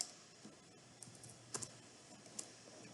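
Quiet computer keyboard typing, with scattered soft key clicks and a few sharper taps spaced irregularly over a faint background hum.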